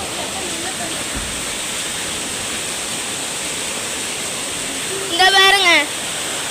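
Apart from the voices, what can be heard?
flowing water on a hill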